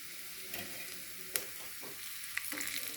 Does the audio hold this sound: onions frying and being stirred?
yes